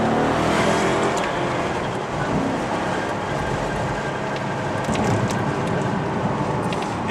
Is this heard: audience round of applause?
no